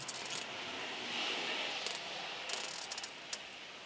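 Ratchet tightening water pump bolts on a 2JZ engine, a few short bursts of quick metallic clicking near the end, close and fairly quiet over a faint background hiss.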